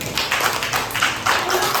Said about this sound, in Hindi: पूनम के लिए पहले सब तालियां